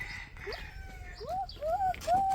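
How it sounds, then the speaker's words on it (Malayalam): A chicken calls out in short rising and falling clucks, several spaced notes from fairly close by, over a quiet outdoor background at evening. "കോഴി"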